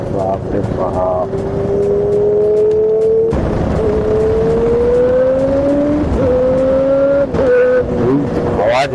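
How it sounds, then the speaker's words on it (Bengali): Superbikes pass on a road with loud engine revs climbing in pitch through several gear changes, one machine after another roaring by nearby, with voices mixed under the engine noise. "সুপার বাইক তো আওয়াজটা শোনো গাইস"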